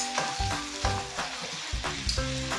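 Green pepper stir-frying in a hot pan for Nigerian fried rice crackles and sizzles loudly and steadily up close, with rhythmic stirring scrapes repeating every half second or so.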